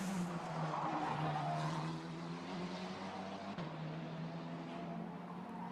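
A Formula Regional race car at Monaco's street circuit: a continuous high-revving engine drone with shifting pitch, steady and moderately distant, over crowd and commentary-free ambience.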